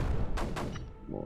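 Mortar launchers firing in the strategy game Creeper World 4, a couple of short muffled thuds with bright bursts over a dense low rumble of game noise.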